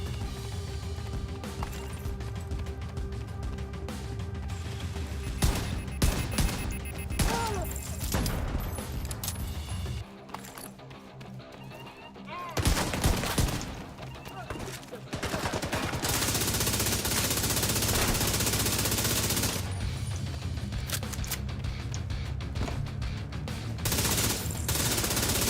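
Gunfire in Tom Clancy's The Division 2 comes as loud, dense bursts of repeated shots with crashing impacts over a busy game soundscape, with a brief quieter stretch partway through.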